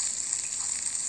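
Food frying in the Toca Kitchen 2 video game, a brief, steady bright sizzle with a faint bubbling texture, heard alone without talking.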